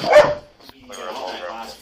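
A police dog barks sharply once up close during a tense bodycam arrest, followed by a brief clatter, then muffled shouting and radio-like voices from officers.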